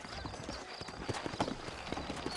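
Horse hooves in Red Dead Redemption clop in a quick, steady rhythm, close and clear, mixed with game ambience.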